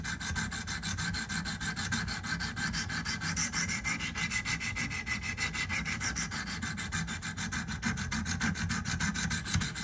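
A knife blade is drawn back and forth across a sharpening stone in a steady, rapid rhythm of close gritty scraping strokes, with no talk throughout.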